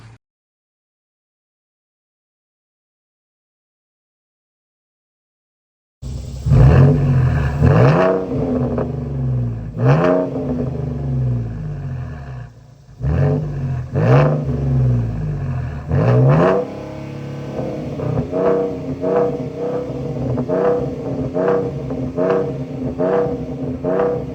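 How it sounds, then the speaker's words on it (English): After about six seconds of silence, a Ford F150 pickup fitted with a new custom exhaust (X-pipe, Super 10 mufflers) starts up at a shop, rumbling loudly and revving repeatedly, with deep, throaty pulls rising and falling. "I'm getting the exhaust put on the truck now"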